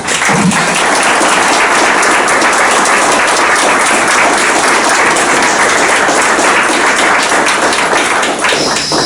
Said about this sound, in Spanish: recordemos de una manera grata la memoria de un hombre superior, auténticamente superior, como Germán Cavelier, con un aplauso afectuoso